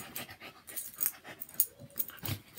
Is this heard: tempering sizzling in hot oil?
no